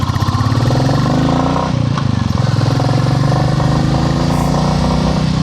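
A motorcycle engine runs loudly and close, with a rapid pulsing putter and a brief dip in revs midway.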